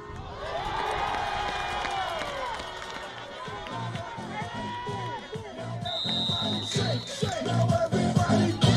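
Football crowd at a Quebec high-school quarterfinal game cheering and roaring, a dense sustained wash of voices that swells louder toward the end, with a whistle-like tone and thumping drums or claps mixed in.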